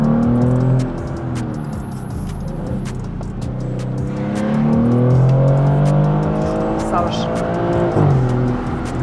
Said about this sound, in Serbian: ja sam morala da spustim malo samo staklo i samo malo da čujem ovaj auto